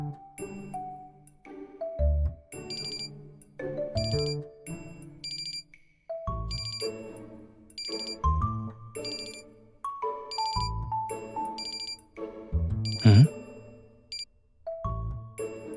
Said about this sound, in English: Oh, that's an alarm I set.